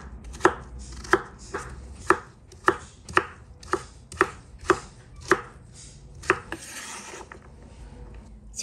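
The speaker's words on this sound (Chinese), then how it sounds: "再改刀切成小块" A knife chops peeled pumpkin into small pieces on a board, about a dozen crisp, evenly spaced strikes sounding close and clear, with no talking.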